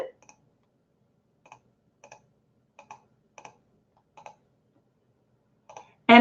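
A computer mouse clicks crisply in a quiet office setting while working through software, about eight sparse single clicks spread out at irregular intervals, close and clear, with a brief voice starting at the end.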